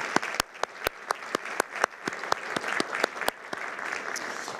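Audience applause for two public servants at a homeland security talk, steady clapping from a crowd with sharp individual claps standing out, sustained throughout.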